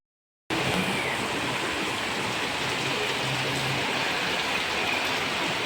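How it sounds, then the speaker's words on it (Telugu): Heavy first rain of the season pours down outdoors in Bangalore, a loud, steady, unbroken hiss that starts abruptly and continues without pause. "ఎంత వాన, నా బట్ట ಎಲ್ಲ ನೆಂದೋಗಿದೆ"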